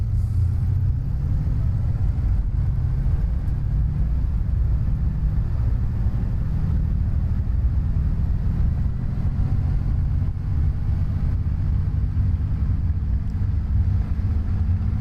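The piston engine of a Spitfire Mk IX in the MSFS flight simulator drones with a deep, heavy rumble that stays loud and steady throughout, a constant low roar with no talk over it.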